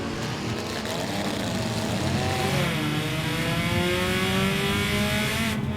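Enduro race cars roar together at Langley Speedway as the green flag restarts the final laps, a dense, loud wall of accelerating engines with rising pitch sweeps and no break.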